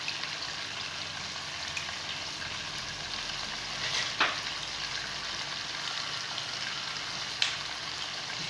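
A pot of red sauce for chicken spaghetti boils hard on the stove, giving a steady bubbling sizzle with a few louder pops, close up and with no voices.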